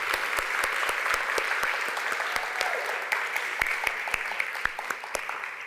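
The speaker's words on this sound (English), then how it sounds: "That was applause for all of us" Audience applause at a gathering, moderately distant and steady, with some individual sharp claps standing out over a soft crowd wash for several seconds.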